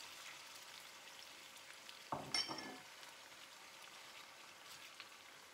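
Beef dropped into hot oil in a pan for turmeric rice, a sudden brief sizzle burst that fades quickly into a faint, steady frying hiss, alone and fairly quiet.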